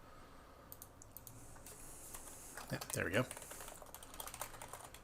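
Rapid clicking keystrokes come from a newly plugged-in computer keyboard, a quick cluster of typing close by with someone talking briefly over it.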